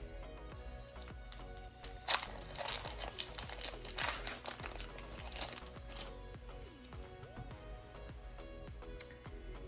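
A Disney Lorcana trading card booster pack being opened, with crinkly foil wrapper crumpling and a sharp tearing burst, followed by softer rustling and card shuffling, close and fairly quiet.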